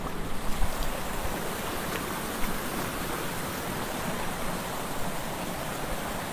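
A shallow stretch of the ancient Citarum river at Cimeta flows steadily, filling the air with a constant broadband wash of rushing water, close and even throughout with no voices.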